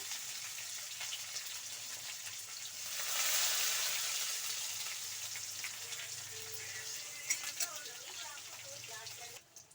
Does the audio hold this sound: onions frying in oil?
yes